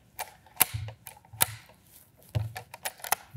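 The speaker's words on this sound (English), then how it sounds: "if I operate the bolt on this rifle here, you can notice that I can open and close it with no impediments" The bolt of a Krag-Jorgensen rifle is worked open and closed, giving a series of sharp metallic clicks and scraping slides, close and fairly quiet, with no talk.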